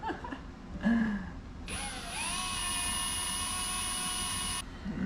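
A power drill whines at a steady high pitch for about three seconds while drilling a Miata headlight, starting with a brief rising spin-up, close by over low background noise.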